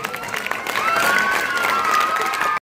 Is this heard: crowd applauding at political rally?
yes